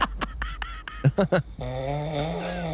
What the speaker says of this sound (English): You were snoring.